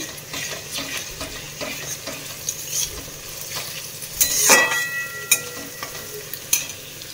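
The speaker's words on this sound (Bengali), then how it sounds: "এখন এটাকে একটু আদা রসুনটাকে একটু কষিয়ে নেব" Ginger-garlic paste fries in a pan with a soft, continuous sizzle, broken by occasional utensil scrapes and one sharper metallic clatter midway, all close and without speech.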